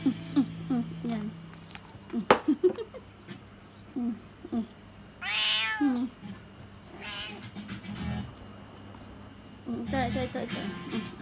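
A pet cat meows repeatedly in short, close calls, with one longer drawn-out meow partway through, while people talk nearby in a home setting.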